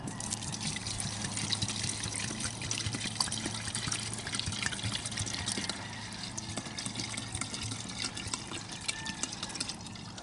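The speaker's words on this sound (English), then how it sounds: "I'm going to put a couple of quarts of non-ethanol gas in this thing." Non-ethanol gasoline is poured from a container into a Briggs engine fuel tank, a quiet, close trickling and gurgling of liquid that keeps going with small splashes and clicks.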